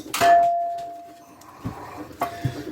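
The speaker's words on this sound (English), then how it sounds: "That was not a Taco Bell. That was the bowl." A bowl clangs sharply twice with a short ringing tone, close and loud, followed by a few lighter knocks and clatters.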